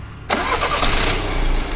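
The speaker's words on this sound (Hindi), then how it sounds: "कनेक्टेड है, गाड़ी स्टार्ट कर।" A car engine cranks and catches after a brief silence, then settles into a steady, loud idle while running with its mass airflow (MAF) sensor disconnected; no talking is heard.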